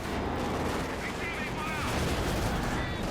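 In the video game Company of Heroes 2, mortar shells and machine-gun fire crack in dense, continuous bursts for a few seconds, loud and close in the battle mix.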